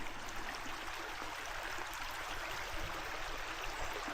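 Rainwater runs steadily through a desert wash in a soft, continuous rushing trickle, faint and unbroken throughout, with no voices.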